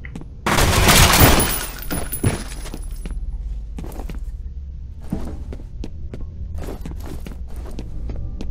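Gunfire in the video game F.E.A.R. opens with a loud, roaring burst of shots lasting about a second. Scattered sharp cracks and thuds follow at intervals and gradually fall quieter.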